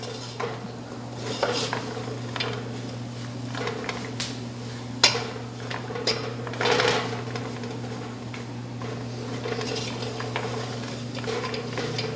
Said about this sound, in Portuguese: Agora vocês não podem parar de mexer, porque senão ele irá queimar e não irá açucarar.